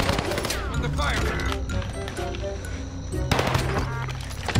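Call of Duty Warzone gunfire crackles in rapid automatic bursts through a busy match, with players talking over the shots throughout.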